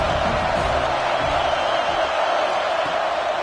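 Stadium crowd at a college football night game between UCLA and USC, a steady loud roar of cheering on a big third down, continuous and dense with no distinct breaks.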